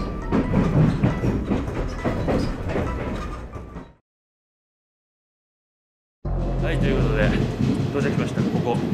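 Rumbling railway noise with people talking over it, cutting to silence for a couple of seconds before the train clatter and voices return.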